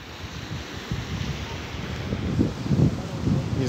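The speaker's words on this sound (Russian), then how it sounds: "Море. Океан." Ocean surf rumbles along the southern coast of the Canary Islands, a low continuous wash of waves mixed with wind buffeting the microphone, swelling louder toward the end, with no talking.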